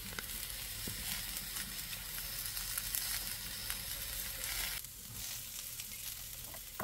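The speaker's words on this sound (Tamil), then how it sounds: "இப்போ இந்த ஸ்டேஜில் கருவேப்பிலை, கொஞ்சம் வெங்காயம் இதெல்லாம் போட்டு நல்லா வதக்கி எடுக்கணும்." Curry leaves and onion fry in a pan for turkey berry thokku, producing a continuous crackling sizzle that briefly changes as more is added, and nobody speaks.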